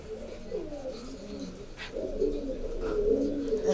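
Pigeons, including an ash-grey cock crossed with a blood-red line and homing pigeons, coo softly in a loft, low rolling calls repeating steadily and growing a little louder toward the end, with no talk.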